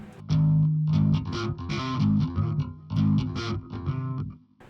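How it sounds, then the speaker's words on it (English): A distorted Spector Dimension NS5 electric bass plays a short riff of sustained low notes with a gritty, fuzzy edge, no voices. "This sounds pretty good even with distortion"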